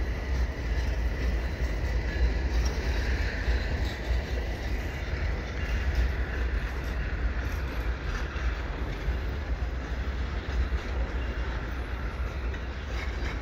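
A Canadian Pacific freight train with three locomotives and mixed cars passes at night in snowy winter, a steady loud continuous rumble and rail roar filling the whole stretch without letup.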